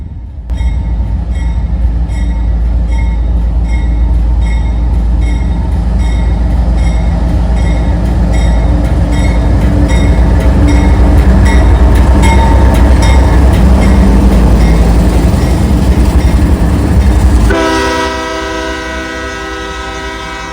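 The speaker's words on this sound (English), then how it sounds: "CSX Mixed Freight Train M506 on a daily journey between Cincinnati, Ohio and Walbridge, Ohio, preparing to take the Northwest Transfer to continue that journey." A CSX mixed freight train rolls past loud and close for about seventeen seconds, with steady wheel and car rumble and clanking, before a sustained horn blast sounds near the end as the rumble fades.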